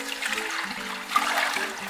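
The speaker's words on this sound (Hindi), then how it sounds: "इसमें दूध उंडेल देंगे।" Milk is poured into a cooking pot for carrot and rice gajrela, a close, steady rushing pour with a few faint tonal hums beneath it.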